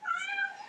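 A hungry house cat gives one sustained, fairly loud whining meow close by, a steady tonal cry with no voices over it.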